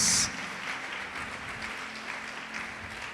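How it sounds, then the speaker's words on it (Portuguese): A church congregation applauds in a steady, even wash of clapping that fills the room after a brief louder burst at the start and holds at a moderate level throughout. "Pode aplaudir e glorificar o nome do Senhor Jesus."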